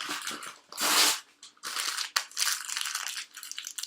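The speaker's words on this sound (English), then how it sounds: "just kind of wadding it and bunching it" Paper being crumpled and wadded up close for papier-mâché, a series of crisp crinkling bursts with brief pauses between squeezes.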